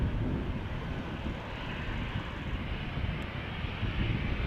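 A KLM passenger jet rolls onto the runway at Amsterdam Schiphol Airport, its engines giving a steady, loud, broadband roar that holds evenly from start to finish with no voices over it.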